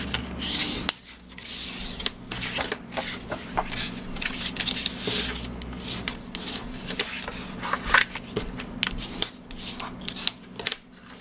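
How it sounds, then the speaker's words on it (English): Paper candy treat bag being folded along scored lines: crisp creasing, rubbing and crinkling of paper, close and fairly quiet, in irregular strokes with no talking. "And then I can start folding the lines."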